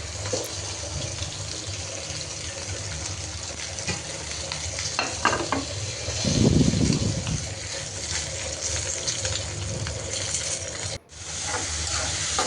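Chopped potato and bottle gourd greens fry in a pan with a continuous close sizzle and occasional stirring. A louder, hissing burst rises midway, then settles back.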